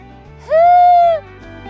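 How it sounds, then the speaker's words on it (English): A marmot gives a single loud, drawn-out whistling call, rising then holding steady for about half a second before dropping off, standing out clearly over quiet mountain background. "There's a marmot making a ridiculous call."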